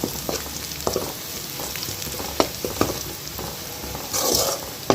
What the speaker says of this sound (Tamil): அதை சேர்த்து அதையும் சேர்த்து வெங்காயத்தோட நல்லா வதக்கி விட்டுக்குவோம்